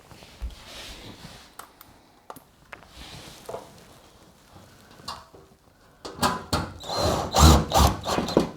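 A power drill drives screws back into a Bosch washing machine, with faint scattered clicks and taps at first, then louder whirring bursts toward the end, close by and with no talking.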